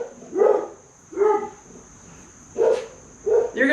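Dogs barking outdoors near a woodworking spot: four separate barks spaced out at irregular intervals, moderately loud and a short way off, over a steady high hum.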